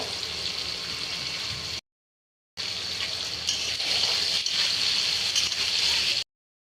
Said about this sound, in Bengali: তো তেলটা গরম হয়ে গেছিল, এখন আলুগুলো দিয়ে দিছি। এখন আলুগুলো ভেজে নেব।